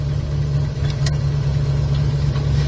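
A 1972 Plymouth Duster's engine idles close by, a steady, loud low rumble that holds even throughout, with a faint brief click partway through.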